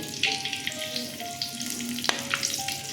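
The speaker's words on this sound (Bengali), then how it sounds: "তেজপাতা দিলাম, দারচিনি, লবঙ্গ, ছোট এলাচ দিলাম, আর কয়েকটা গোলমরিচ দিলাম ফোড়নে।" Whole bay leaf, cinnamon, cloves, green cardamom and peppercorns, along with dried red chillies, sizzle in hot oil as a tempering, giving a steady close crackle with light stirring scrapes and no voices.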